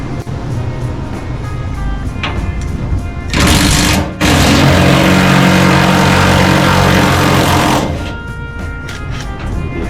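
Cordless M12 impact wrench undoing bolts on a Ford Dentside truck cab, a loud, harsh burst of rapid hammering lasting several seconds amid workshop engine noise.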